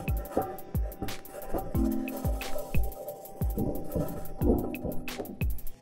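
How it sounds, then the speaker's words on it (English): Perseverance rover rolling on its metal wheels across the Martian surface, heard as a steady grinding rumble with repeated knocking and clanking impacts at an irregular rhythm, close and fairly loud, with no voices. "This is the sound of the Perseverance rover driving on its metal wheels."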